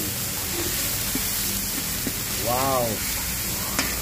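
Bird's eye chilies hit a hot pan while lomo-lomo cooks, setting off a steady, close sizzle and crackle; a voice briefly exclaims partway through.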